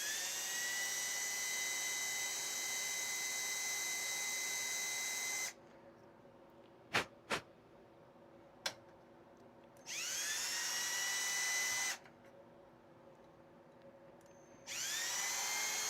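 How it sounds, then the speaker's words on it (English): A power drill whines steadily into a plastic 3D printer part during a Bondtech INDX build, running in long high-pitched bursts separated by quiet gaps with a few sharp clicks between them. "So you want to be careful not to drill too deep"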